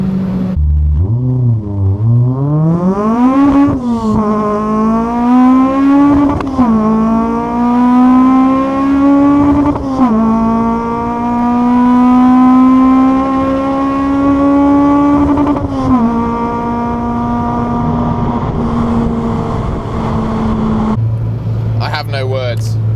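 A Honda Civic Type R EP3 engine revs hard while driving, pitch climbing and holding through sustained loud, close pulls with brief lifts between, ending in a drop to a lower drone.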